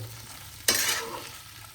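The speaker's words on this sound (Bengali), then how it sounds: "এটাকে ভালো করে দু থেকে তিন মিনিট এটাকে ভালো করে ভেজে নেব কুলগুলো হালকা ফ্লেমে রেখে" Jujube fruits (kul) with salt frying in a pan over low flame: a quiet background hiss broken by one sudden burst of sizzle that fades over a second, close by.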